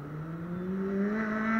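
A motorcycle engine drones and rises steadily in pitch as it accelerates during a race among KTM Duke, YBR and CG bikes, growing slightly louder with no talking.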